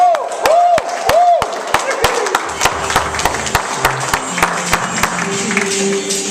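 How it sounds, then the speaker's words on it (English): Loud, sustained applause from a crowd, with sharp individual claps over the steady roar and brief cheering. "give a round of applause"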